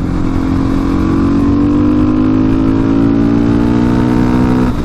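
A 2018 KTM supermoto motorcycle engine runs loud and close, its droning note climbing steadily in pitch as it revs for several seconds before dropping off at the end.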